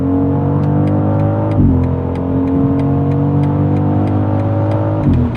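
A 2025 BMW X3 M50 accelerates hard through the gears, its engine droning loud and steady from inside the cabin with rising tones, brief dips at two gear shifts, and no voices.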